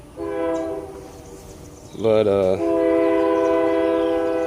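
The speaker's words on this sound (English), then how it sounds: "Sorry about the train." A train horn blares loudly and steadily close by, changing pitch briefly mid-blast, over the rumble of a passing train.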